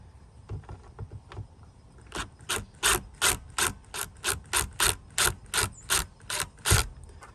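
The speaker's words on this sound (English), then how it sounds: "For this one specifically, I have to unscrew the old one." A screwdriver ratchets while unscrewing the screws of an old wireless doorbell, starting with soft scraping clicks, then settling into a quick, regular run of sharp close ratchet clicks.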